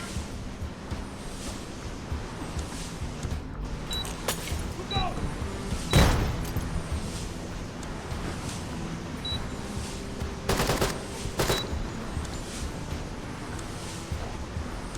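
In the Door Kickers 2 video game, a frag grenade explodes with a sharp, loud blast midway through, amid scattered gunshots and a burst of automatic fire, and voices talk in between.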